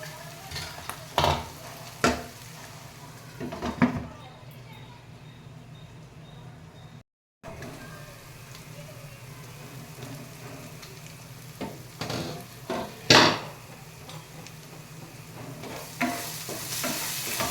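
Chicken for a traditional Telugu tadei chicken fries in a pan, a soft, steady sizzle broken by repeated scraping stirs and clinks of the utensil, alone with no voices over it.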